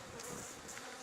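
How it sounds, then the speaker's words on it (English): Honeybees buzzing inside an opened beehive, a steady, faint, dense hum with no pauses or voices. "you can see the bees coming through it"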